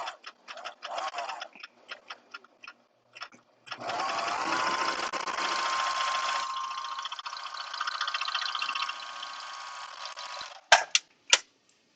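A serger overlock sewing machine stitches fabric, starting with a few slow taps and short bursts, then running in a steady, fast mechanical whir for several seconds before stopping with a couple of final clicks. No one speaks.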